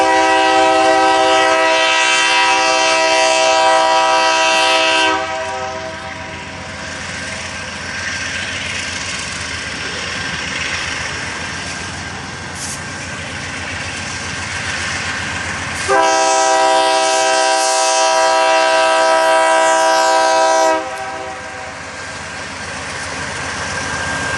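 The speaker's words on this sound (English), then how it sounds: "train 125 is moving slow as he approaches the signal at Bunch" Freight train pulled by two General Electric locomotives moving slowly toward a signal: a steady low engine rumble with two long, loud multi-tone horn blasts separated by a quieter stretch of rolling noise, no talk.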